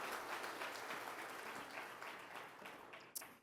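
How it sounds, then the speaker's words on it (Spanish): Church congregation applauding after a sermon, a steady wash of many hands clapping together that holds for several seconds and then thins out, with no voices over it. "dale el mejor aplauso que tú puedas ahí al Señor por su palabra"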